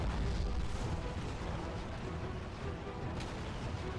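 Grenades exploding in a video game, a continuous rumbling barrage of booms and blasts with dense low-end crackle throughout, fairly loud and with no talking.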